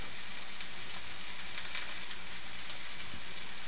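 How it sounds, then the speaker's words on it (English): Steady, crackling sizzle of potatoes frying in a hot pan, a continuous bright hiss with small pops, close by and with no talking. "who doesn't like that sound? The sizzle a good sound."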